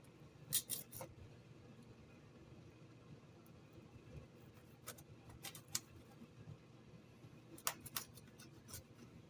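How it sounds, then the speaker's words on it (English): A knife slices potato pieces on a board in a handful of sharp, crisp chops spread through a quiet kitchen, close and faint between cuts, with no talk. "These may look like fairly big slices, but we're going to actually continue to cut them."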